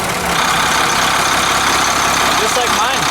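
Turbocharged Cummins 8.3 diesel in a 40 ft Class A diesel pusher RV with an exhaust brake revs loudly and steadily, a broad constant engine roar with a brief rising tone near the end.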